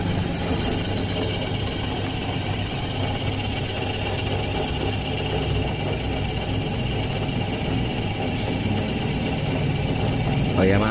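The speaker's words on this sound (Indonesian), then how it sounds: "karena memang bengkel kami di pinggir lintas ya, jadi banyak motor mobil yang lewat" Motorcycles and cars passing a roadside workshop, a continuous mix of engine rumble and traffic noise that stays steady and fairly loud throughout.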